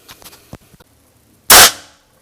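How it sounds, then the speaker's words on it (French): A few faint clicks and handling sounds, then a single sharp, loud air rifle shot, firing heavy Barracuda pellets into ballistic gel, with a brief fading tail. "Je viens de tirer avec mes plombs les plus lourds"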